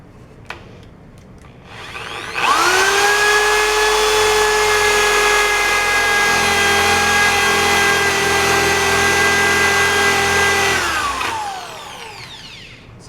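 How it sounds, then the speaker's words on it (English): A 1/2 inch spade bit drills through a clamped piece of wood for a trebuchet build, a steady loud whining drill motor with grinding bite that spins up, holds for about eight seconds, then winds down, with no talk. "Then with a 1/2 inch spade bit, we will drill as straight as we can through this piece of wood."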